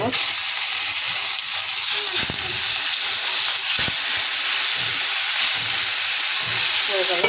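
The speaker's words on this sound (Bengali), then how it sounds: "এগুলো এখন ভেজে নেব।" Chicken frying in hot oil for a Bengali chicken jhal fry, a loud, steady, close sizzle that runs unbroken throughout.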